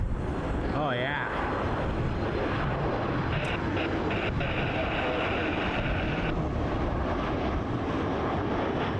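A fixed-wing airliner passes over an airfield near runway 23, a loud continuous engine roar with heavy wind buffeting the microphone, while people talk nearby.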